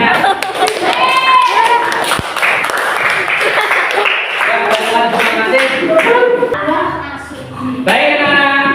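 A group of schoolchildren at an event claps together in a loud, sustained burst of applause, mixed with cheering voices, with a short lull near the end before the clapping rises again.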